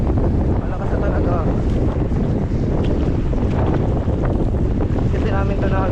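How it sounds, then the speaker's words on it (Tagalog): Strong wind roars across the microphone continuously, loud and blustery, with faint voices underneath. "Pero malakas na talaga yung hangin."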